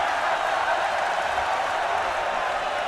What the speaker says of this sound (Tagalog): Talagang dito pa na-hype yung crowd no?